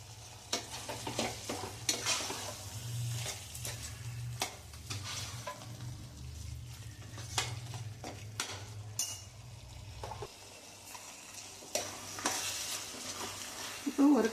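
Mutton sizzles steadily in a pan while a utensil scrapes and stirs in repeated short strokes, with a low hum underneath that cuts out near the end.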